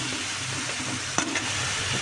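Cumin seeds sizzle in hot oil in a pan, a steady close crackling hiss with a brief louder spit partway through.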